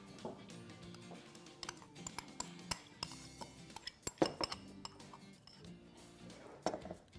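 A spoon stirs a cornstarch mixture in a bowl for a strawberry pot tart, with repeated light clinks and scrapes against the bowl under faint background music.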